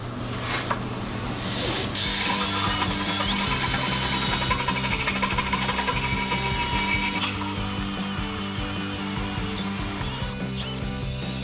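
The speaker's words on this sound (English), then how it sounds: "Drilling the hole? Yeah, I'm gonna drill a hole." A power drill whirs steadily for several seconds, a grinding, ratcheting mechanical whine up close, then winds down; no one speaks.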